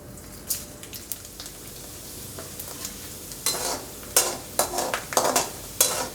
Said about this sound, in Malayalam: ഒന്ന് ചൂടായി വരുമ്പോൾ നമുക്ക് ആദ്യം കടുക് ഇടണം